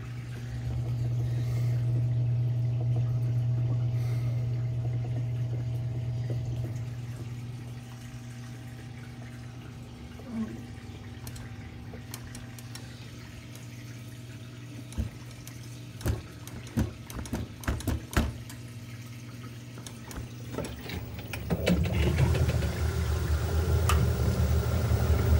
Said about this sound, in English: It's gonna be spinning.